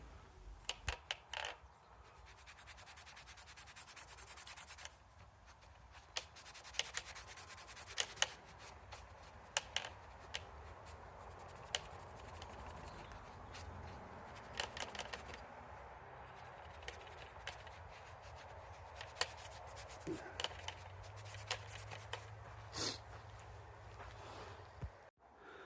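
Scouring pad scrubbing the grimy frame of an old, shed-stored Mk1 Raleigh Burner BMX, a steady faint rasping with scattered sharp clicks and knocks throughout, close up with no voices.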